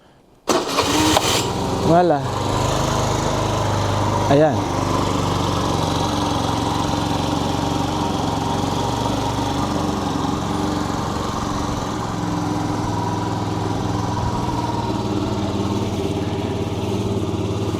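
A fuel-injected maxi scooter gives a brief injector priming whir, then its engine cranks and catches after a couple of tries and settles into a steady idle close by, while a person speaks briefly.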